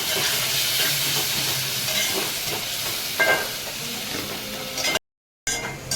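Water poured into a hot pan of spicy village-style egg curry sets off a loud, continuous sizzle and steamy hiss with stirring scrapes, a brief surge midway, then a short cut and the sizzle resuming.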